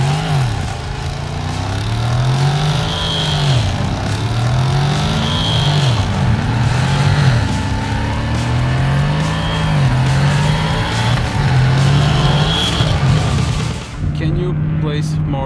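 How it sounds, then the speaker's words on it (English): Ford Mustang doing a burnout, its engine revving in repeated rising and falling surges with tire squeal and skidding, loud and close, under a steady background of talk. "Can you make a burnout?"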